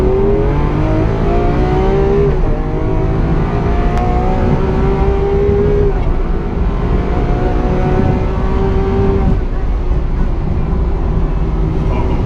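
A Lamborghini Aventador Super Veloce engine pulls hard through a canyon run, loud and close, its pitch climbing through several gear changes with brief dips at each shift, and a voice is faintly heard beneath it.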